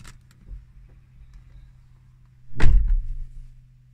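A Renault Megane 4 car door opens with a single loud mechanical clunk and latch release, close by, following quiet cabin hum and faint clicks.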